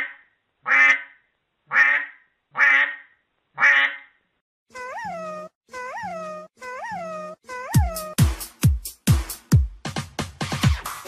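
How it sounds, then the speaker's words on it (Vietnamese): Several loud duck quacks come in a series of separate calls, followed by other animal calls, nasal whines and sharp barking bursts, with no talk. "Con vịt, con vịt."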